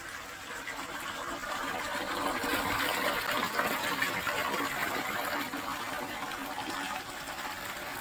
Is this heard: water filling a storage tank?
yes